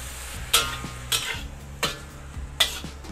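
Long beans and cured duck intestine sizzle in a covered wok after salt, Shaoxing wine, sugar and chicken stock go in, with a steady fry hiss broken by four sharp metallic clanks of a spatula or lid.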